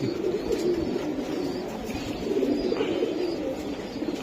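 Racer pigeons at a Bangladeshi pigeon seller's loft coo steadily in a low, continuous murmur, moderately close, with no talking.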